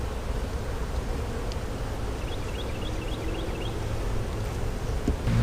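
Honey bees drone in a steady, continuous buzz at an opened hive, close to the microphone and unbroken for the whole stretch, with a little wind noise.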